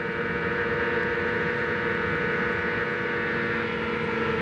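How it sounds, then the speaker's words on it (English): A Toyota-powered IndyCar engine drones at high revs on the California Speedway oval, a steady, sustained roar with no talk. "right behind him, Cristiano Damata, listen to his engine now."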